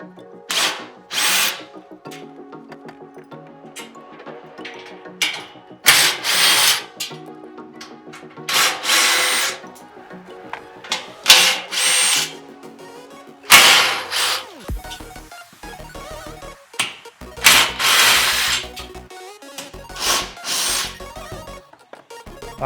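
A power tool fitted with a 13 mm socket spins off cage bolts on a Hurricane 200 Pro frame in repeated short whirring bursts, close and loud, separated by quiet pauses and small clinks.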